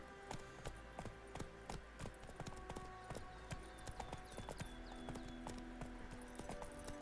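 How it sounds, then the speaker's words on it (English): Hooves clip-clop steadily and rhythmically as a horse trots in The Witcher 3, with quiet in-game ambience and faint tonal sounds beneath the even, fairly soft hoofbeats. "Look at my horse. My horse is amazing."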